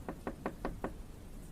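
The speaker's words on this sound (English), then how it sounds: "I heard a knock at the door." Five evenly spaced knocks on a door at night at an RV park, a steady rhythmic rapping heard fairly faint over a noisy background hiss.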